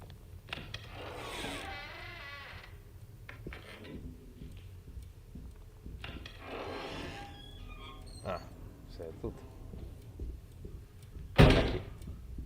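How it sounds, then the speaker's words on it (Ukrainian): Creaking door sounds in the video game Alone in the Dark (2024), drawn-out squealing groans rising and falling twice, plus scattered clicks and a sharp loud thunk near the end, in a quiet, eerie room. "Такі звуки постійно двері нібито відчиняються."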